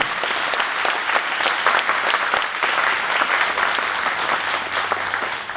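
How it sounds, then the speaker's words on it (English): Applause for Sandy at a dedication ceremony, a steady, close round of clapping from a crowd that holds strong throughout and eases slightly at the very end. "she deserves also a round of applause"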